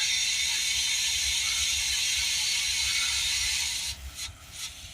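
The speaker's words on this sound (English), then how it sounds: "now we're ready to squeeze the trigger and put the fluid in" DPF cleaning fluid being sprayed into a Ford Transit MK8 2.2 particulate filter with a squeezed trigger gun: a steady close hissing spray, with a few short spurts as it tails off.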